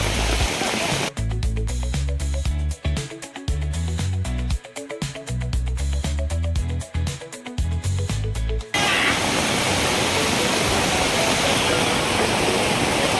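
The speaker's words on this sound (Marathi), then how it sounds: "याकडे छोटे छोटे धबधबे असतात" Ubhadewadi waterfall in the Konkan, a steady broadband rush of falling water; for most of the stretch a loud rhythmic music track plays over it, dropping out near the end to leave the water alone.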